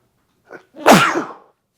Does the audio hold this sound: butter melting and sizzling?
no